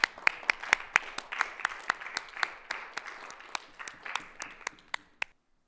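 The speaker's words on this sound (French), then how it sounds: "On applaudit quand même les amis." Audience applause after a chess game ends in resignation, a steady patter of many hands clapping at moderate distance for about five seconds, then fading out abruptly into silence.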